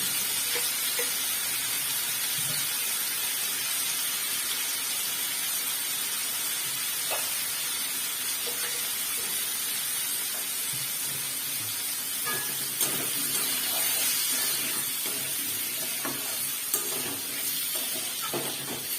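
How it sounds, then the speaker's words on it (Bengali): Prawns with turmeric, alongside potatoes and elephant foot yam, fry in white oil, giving a loud, continuous sizzle with occasional stirring scrapes throughout and no talk. "আমি সাদা তেলেই রান্নাটা করছি"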